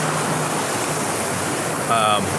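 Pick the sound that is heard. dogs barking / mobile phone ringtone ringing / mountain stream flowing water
mountain stream flowing water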